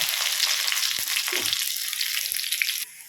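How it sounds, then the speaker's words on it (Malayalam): Small onions frying in oil in a tempering pan give a bright, continuous hiss with a few soft stirring knocks, and the sizzle drops away abruptly just before the end. "താളിക്കാനുള്ള പാൻ വെച്ച് കുറച്ച് എണ്ണ ഒഴിച്ചു കൊടുത്തിട്ടുണ്ട്. അതിലേക്ക് കുറച്ച് ചെറിയ ഉള്ളി ഇട്ട് കൊടുക്കാം."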